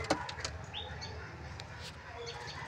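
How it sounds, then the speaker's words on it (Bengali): Pigeons settled inside their coop, with faint fluttering wing sounds and soft chirps and coos over a steady low background hum. "দেখতেই পাচ্ছ পায়রা খোপে ঢুকে গিয়েছে"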